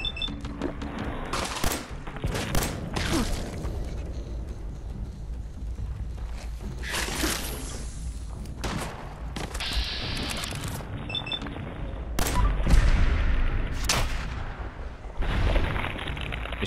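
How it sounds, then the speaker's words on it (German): Gunfire in the video game Fallout 4, a run of sharp shots and bursts scattered through the clip over a steady rumbling game background, with loud cracks clustered near the middle and end. "Ich mag diesen kritischen Schuss."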